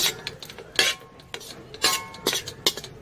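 Metal spoon clinks and scrapes against a pan while garlic pasta is stirred and salt is added, irregular close taps and scrapes with short pauses and no talking.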